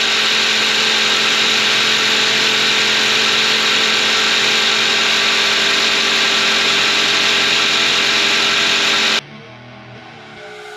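A 2006 Suzuki Grand Vitara engine runs steadily and loudly up close, an even drone with a high whine, until it cuts off near the end into quiet background noise.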